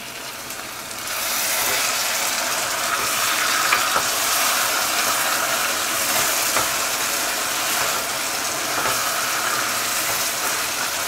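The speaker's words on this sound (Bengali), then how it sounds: "লো হিটে শুটকিগুলোকে আমি 4-5 মিনিট রান্না করে নিলাম" Dried coral fish (shutki) cooks on low heat in a tomato gravy, giving a steady, close, hissing sizzle throughout with faint occasional clicks of stirring.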